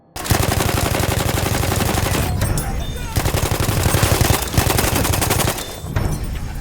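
An MG14 light machine gun in Battlefield 1 fires long, loud full-auto bursts at a fast, even rhythm, broken by brief pauses between strings of shots.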